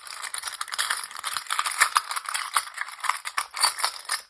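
A deck of tarot cards is shuffled by hand, giving a continuous close rattle of riffling, flapping cards with small irregular bursts and no voices.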